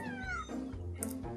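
A bottle-fed kitten meows several times in quick succession, thin rising and falling cries that sound close and clear against a quiet room.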